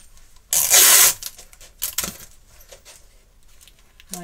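Adhesive tape torn loose with a loud ripping pull, then a few softer crinkles and taps as it is pressed onto an isomalt and sugar sheet cake decoration, ending in a short squeak.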